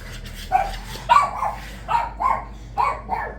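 A puppy yaps repeatedly in short, high-pitched barks, five or six in quick irregular bursts, fairly close by.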